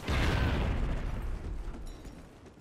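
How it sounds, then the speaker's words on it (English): A grenade goes off in Call of Duty: Ghosts, a single loud, deep blast that hits at once and rumbles away over a couple of seconds with no talk over it. "Grenades seem to take longer to explode, but more powerful."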